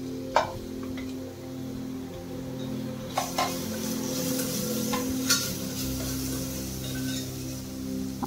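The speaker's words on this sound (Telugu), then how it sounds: "నెక్స్ట్ మనం దీంట్లో కరివేపాకు, ఆనియన్స్ని కూడా వేసి ఫ్రై చేయాలండి." Curry leaves and onions frying in oil in a pan during home cooking, a steady close sizzle with a few sharp clinks of a spoon stirring against the pan.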